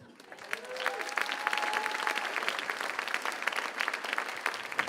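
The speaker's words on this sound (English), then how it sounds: "What a big round of applause." An audience at a school district Teacher of the Year luncheon breaks into a big round of applause, dense clapping that builds quickly and holds steady, with a faint voice briefly audible underneath.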